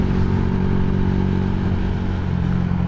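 A Honda Revo motorcycle engine runs loudly up close, a steady droning hum with a rough mechanical rattle throughout.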